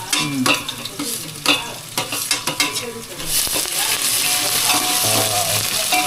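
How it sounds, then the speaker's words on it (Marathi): Onions frying in a pan until golden and slightly red for paneer biryani, with a series of sharp spatula scrapes and stirring clatters at first, then a loud, steady sizzle that fills the rest. Nobody speaks. "कांदो मस्त मस्त पिवळ थोडंसं लाल बारीक भाजून घ्यायचो."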